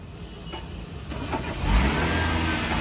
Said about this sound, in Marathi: तर मित्रांनो आपली गाडी स्टार्ट झालेली आहे